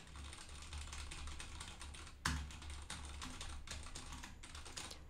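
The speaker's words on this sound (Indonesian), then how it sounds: "di sini kita juga sambil ngetik di keyboard kita kayak gini nih" A computer keyboard is typed on in a steady, fast patter of light clicky keystrokes close to the microphone, with one louder thump partway through and no talk.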